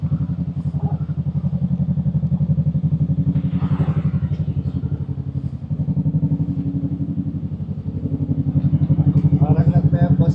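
A Bristol Venturi 500 motorcycle engine idles steadily nearby with a low, throbbing pulse that rises slightly toward the end, while people talk over it.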